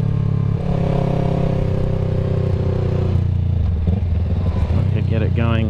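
A Yamaha YZF R3 motorcycle engine hums steadily while riding, then rises in pitch as it revs higher, loud and close with wind noise.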